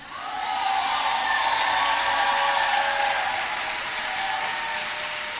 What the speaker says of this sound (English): And of course, everybody claps.